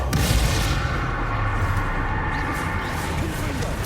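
Sustained loud rumbling blast and crackling roar of a Confringo fire spell in Hogwarts Legacy, dense low booming impact noise filling the clip without a break.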